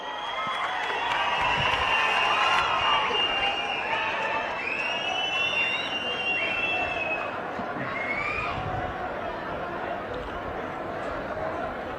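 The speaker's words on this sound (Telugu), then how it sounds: "గట్టిగా చప్పట్లతో" An audience claps at a public meeting with a chief minister present, a steady crowd applause that swells early and holds, mixed with scattered shouts and chatter.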